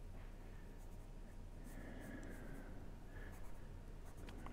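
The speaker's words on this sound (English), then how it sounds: "I'm just sketching around." A pencil sketches a rough figure drawing on paper, making soft, close scratching strokes in short intermittent bursts over a low steady background hum.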